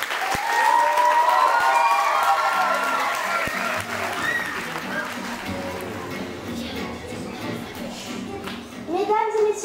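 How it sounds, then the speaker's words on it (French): Loud audience applause welcoming performers onto a theatre stage at an international dance workshop show, a dense wash of clapping that swells early and then thins, with children's and adult voices calling out over it. "je vous demande un tonnerre d'applaudissements pour vous accueillir"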